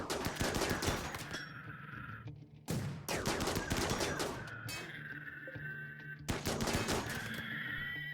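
Rapid gunfire in Rimworld, several dense bursts of shots separated by brief pauses, loud and close with no talking.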